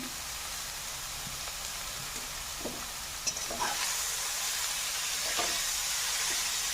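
Beetroot and potato sabji with turmeric and salt is stirred in a frying pan. A soft, steady sizzle runs underneath occasional clinks and scrapes of a spatula, and the sound grows slightly busier toward the end.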